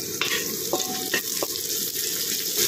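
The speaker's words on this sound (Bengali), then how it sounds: "যে পেঁয়াজ কুচানোটা ছিল সেটা দিয়ে" Chopped onions fry in oil with cumin and green chillies, a close, steady sizzle with a few sharp scraping stirs of a spatula across the pan.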